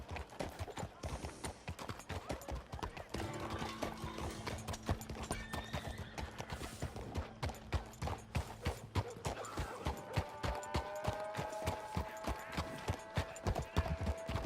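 Horse hooves clip-clop in a rapid, steady galloping rhythm in Red Dead Redemption 2, with tack and ambient game sounds layered underneath and occasional whinnying tones.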